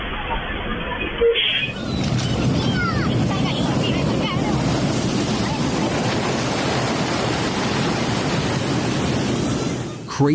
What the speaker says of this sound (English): Crazy waves in Salinas Grande's Nicaragua pushed thick sea foam across the area